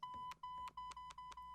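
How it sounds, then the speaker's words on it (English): A phone bleeper sounds a quick run of identical electronic beeps, about seven evenly spaced tones, fairly quiet and heard alone. "there goes my bleeper"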